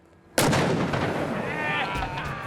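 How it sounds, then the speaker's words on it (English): A cannon loaded with 1.5 pounds of black powder fires one huge, sudden boom. A long, rumbling roar follows and slowly fades outdoors. "Old Moses supplies the biggest boom he can handle"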